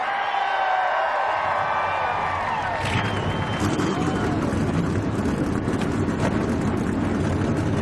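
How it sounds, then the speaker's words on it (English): NASCAR race car engines roar to life at Las Vegas, a dense, loud mechanical rumble swelling from about three seconds in and holding steady over crowd noise and an announcer's voice. "Drivers, start your engine!"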